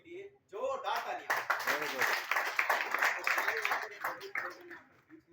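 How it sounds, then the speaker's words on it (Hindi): An audience at a launch event bursts into applause after a brief spoken line, with dense clapping that swells and continues for several seconds before tapering off. "और भी लोगों की मैं चाहूंगा सभी लोगों के लिए जोरदार तालियां।"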